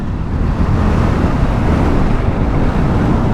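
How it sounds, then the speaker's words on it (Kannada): Overloaded auto rickshaw engine straining uphill with many passengers aboard, a steady loud rumble buffeted by wind noise throughout. "ಅಷ್ಟು ಜನನ ಹಾಕ್ಕೊಂಡು ಎಳೀತೈತೆ ಆಟೋ"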